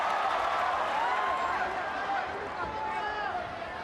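A live ONE MMA fight crowd in the Philippines roars steadily, a dense wash of cheers and shouting that swells and holds throughout as Eduard Folayang fights.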